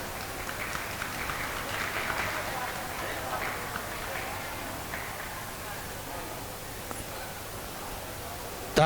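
Steady crowd applause fills a closing ceremony of a Prakrit language teaching camp in Nainagiri, a dense wash of clapping that holds for several seconds with a murmur of voices underneath.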